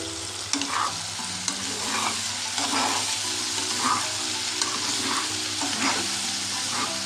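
A spoon stirs vegetables, tomatoes, salt and boiled chickpeas in a sizzling pan, steady frying hiss with repeated scraping strokes and soft clinks at an unhurried rhythm, close and fairly loud, with no voices.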